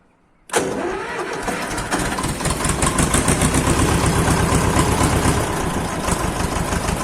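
After a moment of quiet, an Ursus C-330 tractor engine cranks and catches, then settles into a loud, steady rhythmic idle close by.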